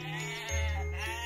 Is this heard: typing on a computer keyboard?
no